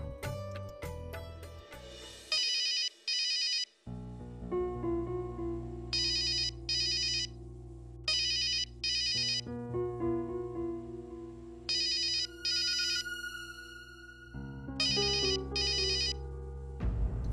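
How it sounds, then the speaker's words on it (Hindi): A mobile phone ringtone plays during a Hindi television drama, a loud repeating electronic melody in bursts with short gaps, continuing for the whole stretch with no talking. "मैं अभी उसे फोन लगा दूं"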